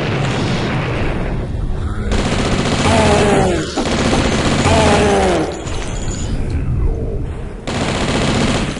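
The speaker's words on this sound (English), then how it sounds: "Oh yeah, I forgot, that's my secondary fire." Weapon secondary fire in the retro shooter Blood, Plasma Pack: loud, heavy booming blasts and rapid gunfire bursts in separate sections, with shrill creature cries between them.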